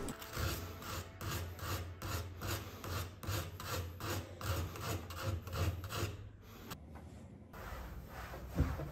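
Hand sanding of painted wooden furniture during a motel renovation, rapid rhythmic back-and-forth sandpaper rasping, close and steady for several seconds before stopping briefly and resuming.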